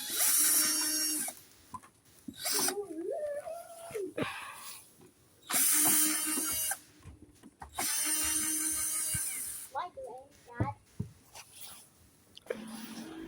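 A power driver on its lowest torque setting backing bolts out of a Traxxas X-Maxx RC truck, with loud whirring bursts that start and stop, broken by ratcheting clicks and quieter handling noises.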